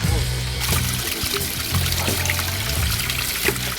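Water gushes from the drain of a clogged washing machine after debris is cleared, a loud rushing pour over a low mechanical hum that runs steadily throughout.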